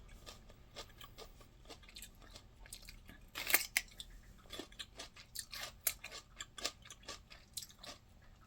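Close crunchy bites and steady chewing of a fresh white cucumber picked from a garden, with repeated crisp snaps and wet munching in an irregular rhythm, fairly quiet overall.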